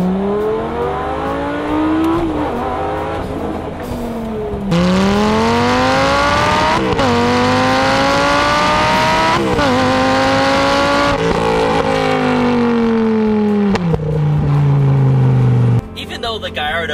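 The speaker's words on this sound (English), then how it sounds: "The 5-liter V10 in the Lamborghini produces some of the most beautiful noises I've ever heard." Lamborghini Gallardo with a 5-liter V10 revving loudly up and down through repeated rising and falling sweeps, close and powerful, with some tire noise.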